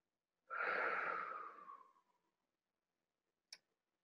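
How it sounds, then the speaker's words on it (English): A person takes one slow, close breath that fades gradually, followed by silence and a single brief click. "So just breathe for a second."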